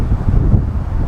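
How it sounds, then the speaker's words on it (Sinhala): Wind blowing across a mountain peak at Kabaragala, a steady low buffeting rumble that batters the microphone throughout without a break. "මේ සද්දේ මං හිතන හුළඟ"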